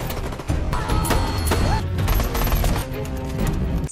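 Gunfire rips through a film shootout between a man and mafia gangsters, dense overlapping shots and crashes in rapid bursts, loud and close, with no speech.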